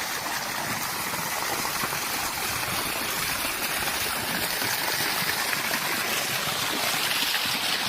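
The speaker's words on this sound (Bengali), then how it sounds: "এখানে এই গাছের মধ্যে কি সুন্দর পানি বইছে" A stream of water running among trees makes a steady, dense rushing wash that holds an even level throughout, with no voices over it.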